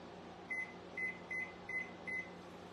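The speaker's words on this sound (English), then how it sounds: "Set my timer back on 8 minutes." An oven timer is set while baking a deep-dish peach pie, giving five short, faint electronic beeps at an even pace over a steady low kitchen hum.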